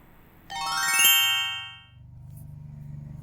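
A bright, ringing notification bell chime with a shimmering metallic tone strikes once and fades over about a second, followed by a low hum.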